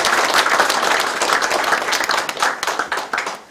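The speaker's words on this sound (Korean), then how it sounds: "소개해드릴 때 큰 박수 부탁드리겠습니다" Audience at a village gathering in Yulmyeon, Icheon, applauding as local dignitaries are introduced; a loud, continuous wash of many hands clapping close by, with a voice faintly underneath.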